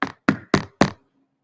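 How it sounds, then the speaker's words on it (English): Four firm knocks on a door, evenly spaced, loud and close, with a brief low ring after the last one and no other sound. "he knocked on the door"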